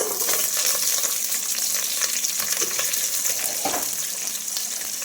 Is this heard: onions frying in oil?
yes